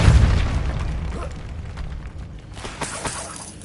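A booming burst from the Depulso spell cast in a Hogwarts video game, loud at the start and then trailing off into a rumbling decay, with a few later pops.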